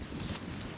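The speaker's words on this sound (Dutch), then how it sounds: "Het waait een beetje." Steady wind rushing and buffeting across the microphone, a constant low roar with no other distinct sounds.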